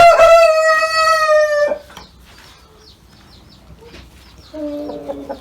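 Brahma chickens on a farm cluck and call loudly up close, with a long drawn-out crow at first, a quieter stretch of soft clucks, then another sustained call at the end.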